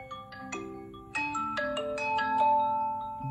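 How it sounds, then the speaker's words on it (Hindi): A vivo Y100 phone ringtone plays a bright, synthetic melody of quick plucked notes, clear and moderately loud with no talking. "ये इसकी रिंगटोन आ गई"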